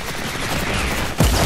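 Rapid gunfire from a rocket launcher in Fortnite Chapter 4 Season 5, a dense loud burst of blasts that hits harder near the end.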